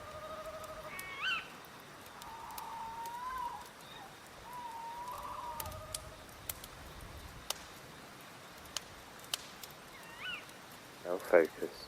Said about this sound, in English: Now focus on the sound of the owls.